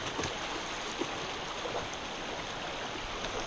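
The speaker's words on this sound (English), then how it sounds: "So you didn't think you were going to be crossing streams on this trip" A mountain stream in Indian Canyon near Palm Springs flows steadily, a continuous broadband rush of water with small splashes, moderately close and even throughout with no talking.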